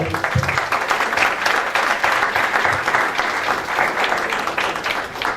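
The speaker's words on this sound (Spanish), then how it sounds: "Un fuerte aplauso para los dos, por favor." An audience at a talk on electoral reform applauds loudly and steadily, a dense, unbroken wash of clapping lasting several seconds with no voices over it.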